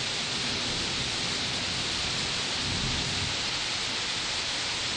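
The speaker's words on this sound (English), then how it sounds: "Thunder. And destruction." During a heavy afternoon rainstorm, a dense roar of downpour fills everything, with a low rumble of thunder swelling faintly beneath the steady rain.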